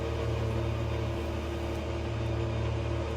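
A race car engine in the video game Le Mans Ultimate, a steady loud droning hum with a constant buzzing tone, held at an even pitch without clear revving.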